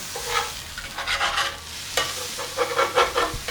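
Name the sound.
beef patty frying on a griddle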